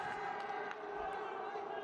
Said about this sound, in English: The crowd respond. The crowd are loving it here in Rio de Janeiro